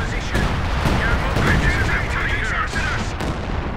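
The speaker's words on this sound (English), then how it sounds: "Artillery laying down covering fire for friendly vehicles." Artillery fire in Company of Heroes 2 forms a dense, loud wall of overlapping blasts and rumbling impacts that continues without a break, with radio-style voices talking over the barrage.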